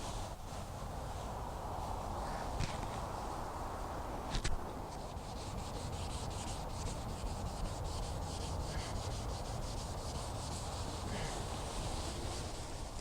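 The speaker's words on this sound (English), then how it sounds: "you got to make sure that you sand it and have a nice feathered," Steady sanding of primer on a car bumper during a repair, a continuous close abrasive rubbing and scraping that runs the whole time without pause, with no talk.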